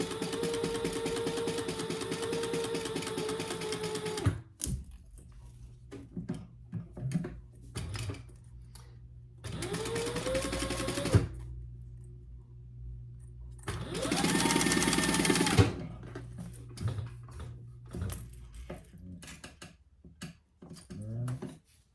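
An industrial sewing machine basts layers of a crossbody bag in place, running in three long loud whirring bursts separated by pauses with small handling clicks and rustles.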